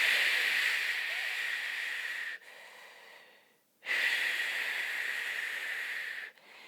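Slow, forceful exhalations through the mouth during a postpartum core exercise, two long airy breaths close to the microphone with a brief pause between them.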